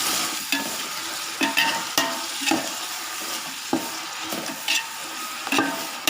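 Onions and tomatoes fry in a pan for beef biryani, a steady sizzle broken by repeated sharp scraping strokes as a spoon stirs them.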